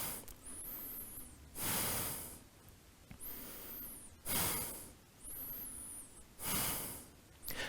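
Slow, deep breaths are held during a yoga pose, with long airy inhales and exhales alternating in a steady rhythm, close and clear, about four cycles with no talking.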